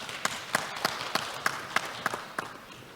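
Scattered applause at a Korean academic forum, faint and distant, with a few audible individual claps standing out in a regular rhythm over a soft wash of hands.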